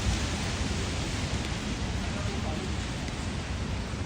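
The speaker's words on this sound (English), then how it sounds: "it has stops and starts, the rain. So, not coming down that hard at the moment." Rain falling on a Los Angeles street during an outdoor walk, a steady, dense hiss of drops at moderate level, continuous and even throughout.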